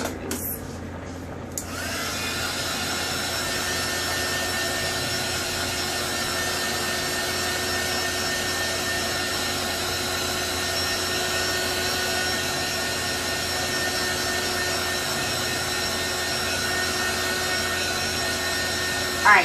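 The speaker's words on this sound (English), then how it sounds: "I'm going to get my heat gun, and I'm going to warm these guys up" A heat gun runs steadily while warming tumblers, a loud constant whirring blow with a high whine, starting after a brief clatter and holding unbroken for the rest of the stretch.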